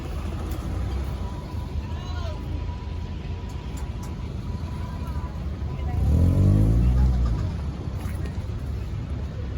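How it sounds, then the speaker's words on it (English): A big old tractor engine rumbles steadily at a farm parade, swelling louder for a few seconds as it passes close by, with crowd chatter and people talking throughout. "This right here's a big old tractor."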